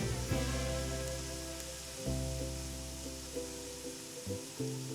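Mustard seeds and cumin sizzle steadily in hot cooking oil in a pan, a soft continuous crackle with faint pops and a low background hum.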